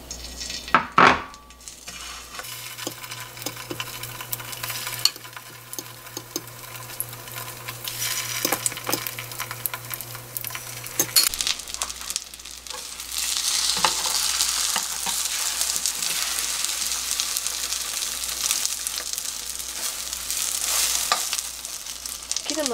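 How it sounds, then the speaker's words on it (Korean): Pork meatballs (donggeurangttaeng) coated in flour and egg frying in a generous amount of oil in a pan over low heat, giving a steady close sizzle with occasional pan and utensil clinks, no talking. "만들어뒀던 동그랑땡을 이렇게 넣습니다."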